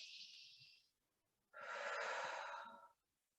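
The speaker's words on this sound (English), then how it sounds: "Just breathe in, breathe out." Breath drawn in and then let out during a Pilates exercise, with a soft inhale followed by a longer, louder exhale, close and alone.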